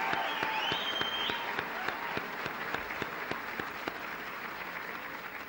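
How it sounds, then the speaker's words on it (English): Audience applause for graduates at a university commencement ceremony, a sustained crowd of steady clapping with a few sharper individual claps, fairly distant. "Please join me in giving a special applause to this group of graduates"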